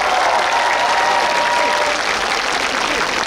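Crowd applause at an outdoor youth day festival, a dense, loud wash of many hands clapping that holds steady from start to finish with a faint tonal hum running beneath it.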